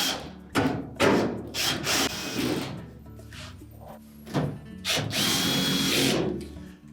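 A power drill drives screws into a Whirlpool dryer panel, giving several short, loud whirring bursts of varied length up close, with brief pauses between them.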